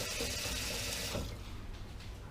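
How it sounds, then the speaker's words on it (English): Water pours steadily from a tap into a pot, a dense rushing splash that softens slightly partway through. "we take our boiling pot, add some water in there"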